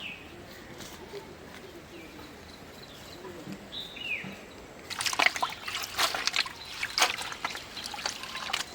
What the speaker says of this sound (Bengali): পুকুর ঘাট থেকে ধুয়ে আনো একটু